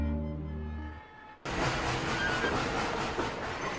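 A train runs on rails in a documentary sound effect, with a steady loud rumble and clatter starting abruptly after a quieter musical opening.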